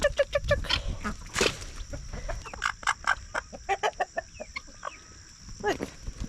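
Chickens on a farm clucking in quick, close bursts, several birds overlapping in a busy, uneven rhythm, with brief talk mixed in.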